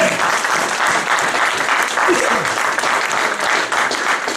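A church congregation applauds during an evangelistic sermon, a dense, steady roar of clapping that carries through the whole stretch without breaks.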